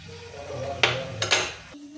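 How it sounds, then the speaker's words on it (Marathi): A metal pot and a sieve clatter as they are handled in a kitchen during ghee-making, with a few sharp clinks and knocks standing out over a low background hum. "आता एक पातेलं घेतलेलं आहे आणि त्यामध्ये चाळण घेतलेली आहे."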